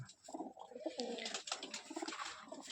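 Black-eyed Jack pigeons in moult coo in soft, repeated low rolling calls, close by, over a background of faint chatter and shuffling.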